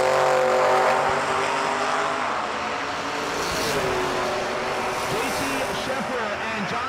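Drag racing cars, a Capri among them, launch down the strip at a New Year Nationals event, their engines roaring loudly and then fading and shifting in pitch as they pull away, with a voice heard at times underneath.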